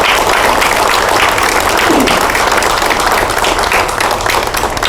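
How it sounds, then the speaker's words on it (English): Sustained, loud audience applause at a governor's meeting with the private sector, a dense wash of many hands clapping that fills the whole stretch evenly. "let's give him a round of applause for his work"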